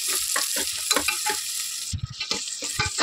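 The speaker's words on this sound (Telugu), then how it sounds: "దోరగా వేసుకోవాలండి ఉల్లిపాయలు" Sliced onions fry and sizzle in oil in a pan, stirred briskly throughout, with a steady bright hiss and repeated scraping strokes of the spoon, close up; the sizzle briefly drops out near the end before resuming.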